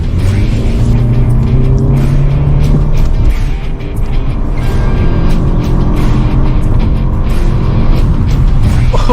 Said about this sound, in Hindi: आपको सिर्फ पैडल प्रेस करना है एंड इंस्टेंट पावर एंड बहुत एक्साइटिंग इंजन का पुल आपको मिलेगा